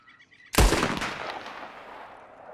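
A single sharp gunshot in Red Dead Redemption 2 while hunting cracks out loudly after a quiet moment, followed by a long fading echo.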